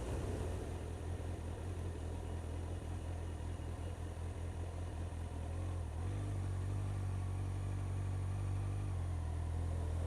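A Honda CBF1000 motorcycle carrying a pillion passenger rides at low speed, giving a steady, smooth engine hum with gentle throttle changes under constant wind rumble, fairly faint.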